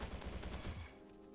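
Rapid automatic FAMAS fire in the Roblox shooter Bad Business: a quick burst of about seven evenly spaced shots, close and punchy, cutting off before the end.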